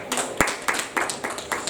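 A church congregation claps hands in a loose rhythmic pattern, several sharp bursts about every quarter second, close and fairly loud, with voices mixed in.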